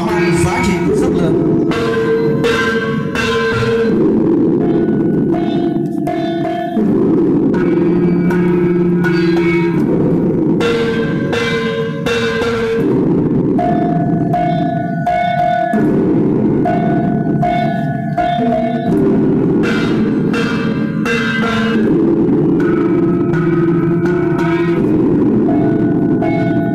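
Muong ethnic gongs ring out at a festival in a steady, continuous pattern of layered metallic tones that overlap and sustain, loud throughout with a reverberant, resonant quality.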